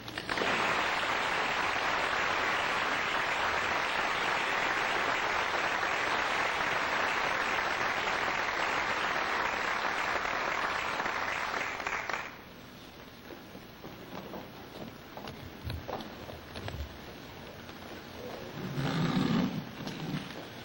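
Audience at a senior awards night applauding heavily for about twelve seconds, a dense sustained roar of clapping that cuts off abruptly, leaving quieter room noise with scattered bumps and murmur.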